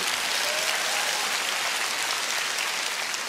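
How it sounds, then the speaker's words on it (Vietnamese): Audience applause at a live Vietnamese comedy stage show: a dense, steady wash of many hands clapping together, loud and continuous throughout with no pauses. "cho tràng pháo tay cho bà con ơi"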